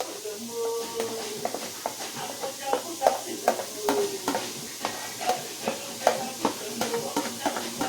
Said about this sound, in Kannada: ಇಲ್ಲಿ ಹಾಕಿದ ನಂತರ ತಳ ಸಿಗದಂತೆ ಈರುಳ್ಳಿಯನ್ನು ಫ್ರೈ ಮಾಡ್ಕೊಳ್ಬೇಕು